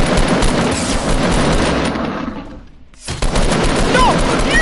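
Gunfire in the Fortnite video game, dense rapid shots and bursts filling the clip, briefly dropping out near the middle before resuming loudly, with no clear speech.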